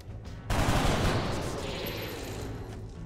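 Dense automatic gunfire erupts suddenly in an XCOM: Enemy Within firefight as a soldier shoots an enemy, a loud, rapid fusillade that keeps roaring steadily for a few seconds after a short quiet lead-in.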